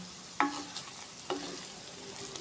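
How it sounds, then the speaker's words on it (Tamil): Tamarind sautéed in a pan for ginger thokku gives a soft, steady sizzle broken by two or three scraping stirs, quiet and close, with no talk. "புளி நல்லா ஒரு அஞ்சு நிமிஷம் போல் வதக்கியாச்சு நல்லா வதங்கி வந்துடுச்சு"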